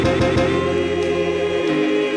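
Gritty soul-gospel record sample, playing dense and steady with rich sustained tones and a few rhythmic hits early on, no talking over it.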